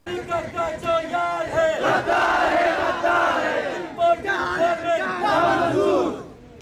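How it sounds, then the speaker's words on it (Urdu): Party workers at a political rally in Chitral chant slogans in unison, a large crowd's loud rhythmic shouting rising and falling in repeated phrases with brief pauses between. "جلسے میں پارٹی کارکنوں نے امپورٹڈ حکومت نامنظور نامنظور اور امریکہ کی جو یار ہے غدار ہے کے نعرے بھی لگائے۔"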